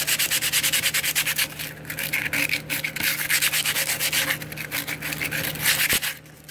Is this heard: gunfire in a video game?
no